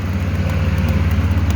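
A farm tractor engine runs steadily near cattle at a feed bunk, a loud, close, throbbing low idle with no talk.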